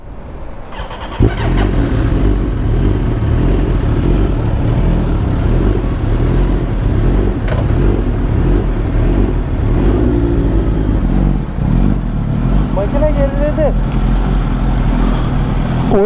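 A loud motorcycle engine with a faulty rough idle runs steadily and roughly throughout, with a brief rev near the start and voices talking over it.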